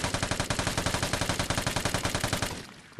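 Rapid automatic gunfire from a heavy gun in the video game Vigor rattles off in a fast, even burst of close, loud shots. The burst stops abruptly near the end and leaves a short fading tail.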